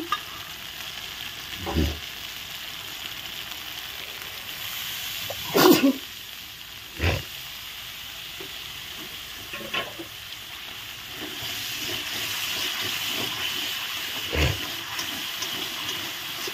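Spice paste with salt and turmeric sautés in a pan for a borali river-fish curry: a steady low sizzle with a few sharp clanks and scrapes of stirring scattered throughout.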